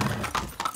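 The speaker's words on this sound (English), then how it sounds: "It's Anton's fucking zebra. That's the horse in some paint." Zebra hooves in Far Cry 6, a quick run of soft clip-clop steps, three or four hoof falls in under a second, heard fairly close at moderate volume.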